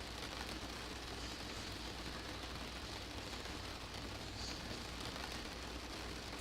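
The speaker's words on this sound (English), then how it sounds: "You can kind of tell we're climbing out of the rain right now" Rain patters steadily against a Majestic Dash-8 Q400 airliner in a flight simulator, a faint, even hiss of drops over a low constant hum, with no voices.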